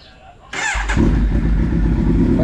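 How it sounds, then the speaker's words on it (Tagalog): A motorcycle engine starts at a Pangasinan farm, first a short cranking burst, then catching into a loud, steady idle that runs on to the end. Some voices can be heard before the start. "Magmumotor na tayo."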